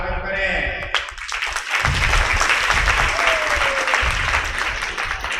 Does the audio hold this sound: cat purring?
no